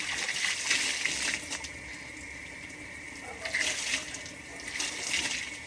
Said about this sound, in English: Okay, and as you can see, the rest of the water is now draining out.